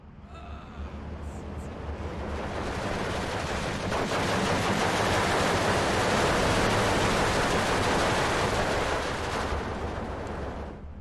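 Mortar barrage from the Steel Division 2 wartime strategy game pounding a forest, a broad continuous rumble of overlapping blasts swelling to a loud sustained roar mid-way before easing slightly.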